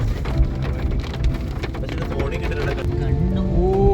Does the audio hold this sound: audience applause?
no